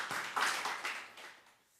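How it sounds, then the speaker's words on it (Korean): A congregation at a Korean Full Gospel Sunday worship service claps together, a faint, fairly distant patter of applause that swells briefly and then fades out. "우리 영광의 박수 올리겠습니다"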